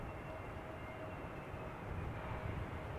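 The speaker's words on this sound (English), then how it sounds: "EasyJet coming in." EasyJet passenger jet on approach to land at Amsterdam Schiphol Airport, a steady broadband engine roar that holds level and swells slightly near the end, with no voices.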